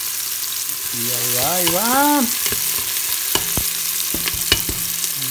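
Garlic and onion sautéing in olive oil in a pan for pumpkin soup, a steady soft sizzle with occasional sharp clicks of stirring, while a voice talks briefly over it near the start.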